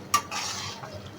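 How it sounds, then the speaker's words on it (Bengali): Khichuri of rice and lentils stirred in a pot, a sharp spoon scrape against the metal followed by a soft wet swishing that trails off, close and brief with no voices. "তো এখন একটু নাড়াচাড়া করে দেখে নিব।"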